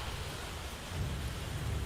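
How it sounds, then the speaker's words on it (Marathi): Heavy monsoon rain pours down in Dombivli, a steady dense wash of broadband noise with a low rumble underneath, constant and fairly loud for the whole stretch with no voices. "डोंबिवलीमध्ये मुसळधार पाऊस सुरू आहे."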